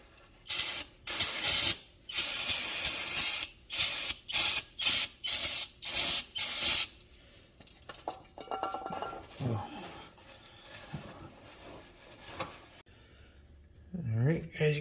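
Cleaner sprays onto engine parts during a turbo 6.0 and 4L80E swap into a Foxbody Mustang, a run of about ten sharp, loud hissing bursts in quick rhythm, then quieter handling noises and someone talking.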